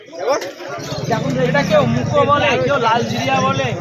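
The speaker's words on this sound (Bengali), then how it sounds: "পায়রা জোড়া শুধু দেখুন" A pair of red pigeons at a bird market coo amid a loud, steady hubbub of crowd voices and market chatter.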